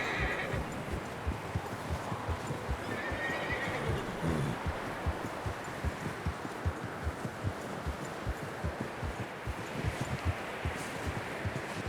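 Horses in the Red Dead Redemption 2 video game, with a steady stream of hoofbeats clopping along under a faint whinny, close and continuous against rustling ambience, no speech.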